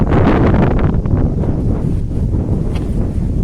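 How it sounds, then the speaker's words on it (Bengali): Strong wind by a river buffets the microphone in a loud, continuous roar, with no voices heard. "তো প্রচুর পরিমাণে বাতাস চলছে।"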